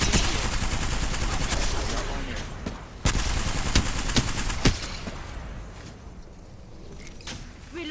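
Rapid gunfire in the Apex Legends battle royale game, with dense bursts crackling throughout and several sharp louder shots standing out, easing slightly toward the end.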